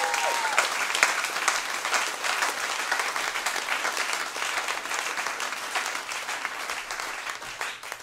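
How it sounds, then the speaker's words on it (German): A small audience at a closing concert applauds as thanks are given to helpers. The clapping is fairly quiet and moderately dense, with individual claps audible, and holds steady for about eight seconds. "Ein Applaus auch dafür."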